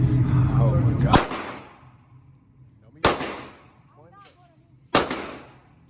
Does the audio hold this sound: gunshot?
yes